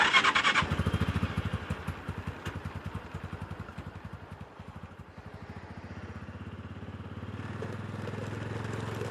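A Massimo MSU500 side-by-side UTV, a 2014 HiSun EFI model, pulls off with a chugging pulsing engine that eases as it settles into a steady drone, close up and without talk.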